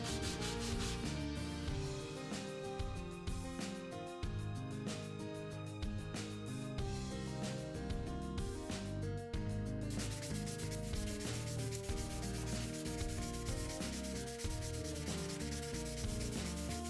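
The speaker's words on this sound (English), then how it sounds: "This technique of sanding the neck is one of my favourites." Continuous back-and-forth sanding of a wooden guitar neck, a steady scratchy rubbing close up, with no talking.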